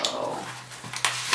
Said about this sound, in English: My pitiful dog is sniffing my butt.